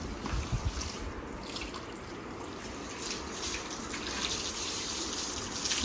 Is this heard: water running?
yes